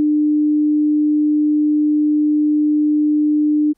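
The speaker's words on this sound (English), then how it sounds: "here's what the 300 Hz tone sounds like as the pressure wave arrives at the ear" A steady 300 Hz pure sine tone holds at constant loudness for nearly four seconds, completely smooth and unwavering, then stops abruptly.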